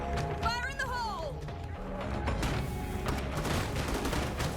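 A grenade blast in State of Decay 2 rises as a loud boom and crashing debris amid gunfire, after a rising whistling tone, with someone talking over the noise.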